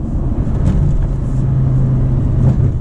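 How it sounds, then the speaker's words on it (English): An Audi R8 with a naturally aspirated V10 and gated manual gearbox revs on the gas, a steady loud engine drone with a rising howl held close throughout, no talking. "And you really get that V10 howl."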